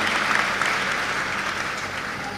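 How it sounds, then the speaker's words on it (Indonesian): Students at a Gontor Islamic boarding school event with Anies Baswedan give Muhammad Ridho a round of applause: a full, sustained roar of many hands clapping at an even level from start to finish. "Tepuk tangan buat Ridho."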